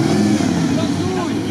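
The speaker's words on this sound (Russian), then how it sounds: "Валера, не газуй," A Jeep Grand Cherokee WJ V8 engine revs with a steady droning roar throughout, while a voice talks over it.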